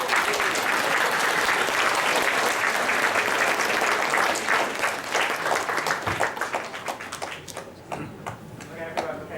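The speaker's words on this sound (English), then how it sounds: "Let's give them a round of applause." Audience at a youth awards ceremony applauds the shortlisted finalists, a dense, loud wash of clapping that holds steady and then thins into scattered individual claps near the end.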